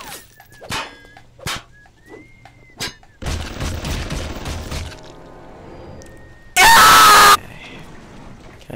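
Gunfire aimed at the player in the shooter BioShock, a dense burst of rapid shots in the middle with several sharp separate bangs earlier, then a very loud blaring blast near the end, mixed with other game noise.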